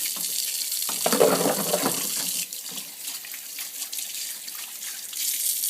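Running tap water splashes over Omega VRT350 juicer parts as they are rinsed in a sink, a steady broadband rush with louder bursts near the start, alone with no voices.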